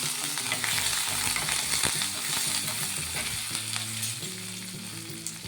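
Garlic and curry leaves sizzling in hot tempering oil, a loud, dense crackle that stays constant, with a low hum underneath and no talk.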